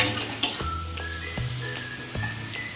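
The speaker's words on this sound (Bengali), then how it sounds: "মশলাগুলি ভাজা ভাজা হয়ে যায়, তারপর মটরগুলি দিয়ে দেবো।" Spices sizzling in a pan on a gas flame after a splash of water, a steady close hiss broken by a few soft metallic taps of a spoon against the pan, with no voices.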